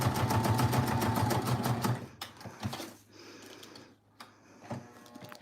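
A sewing machine stitches down a junk journal page, its needle pounding rapidly and evenly up close for about two seconds before stopping, followed by quieter handling sounds and a low hum.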